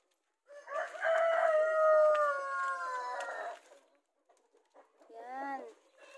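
A Rhode Island Red rooster among free-range chickens crows once in a long, loud, drawn-out call, then after a pause a shorter, rougher crow or squawk follows nearby.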